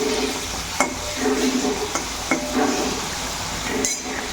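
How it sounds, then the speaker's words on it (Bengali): Large prawns fry in a pan with a continuous sizzle close by, broken by several sharp clinks and scrapes as a utensil stirs against the metal. "এদিকে চিংড়ি মাছটা আমার ভাজা হচ্ছে"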